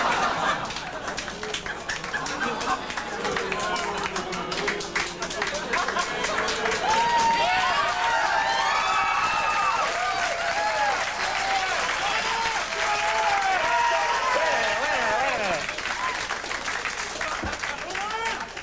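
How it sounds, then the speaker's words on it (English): Studio audience at a late-night talk show breaks into sustained, dense applause mixed with cheers and shouts, loud and continuous throughout with crowd voices woven in. "The most schizophrenic crowd reaction"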